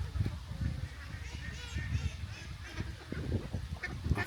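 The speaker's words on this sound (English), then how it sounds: "I've never seen so many ducks in one place." A large flock of waterfowl honks and quacks repeatedly by the River Severn between Bridgnorth and Bewdley, a busy overlapping chorus with some voices mixed in.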